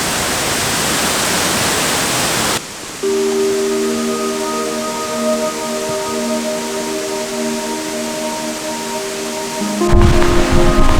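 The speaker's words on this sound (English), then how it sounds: "Now it's dumping rain inside the forest" Heavy rain pours down in a Kauai forest as a dense, loud hiss, strongest at the start, then continues more softly under steady tones before surging again at the end.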